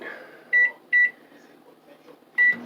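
A microwave oven is set to heat food for another minute. It gives three sharp electronic beeps, two close together and one a moment later, over a faint, steady running hum in a quiet kitchen.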